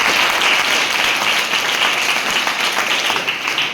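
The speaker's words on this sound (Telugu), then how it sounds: "చప్పట్లు కొట్టండి ఒకసారి." A school audience bursts into dense, sustained applause, many hands clapping together at full volume before tapering slightly.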